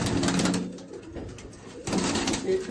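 Domestic pigeon brought from Punjab, handled and let go, giving soft low coos in two short bursts with a quiet gap between, close by.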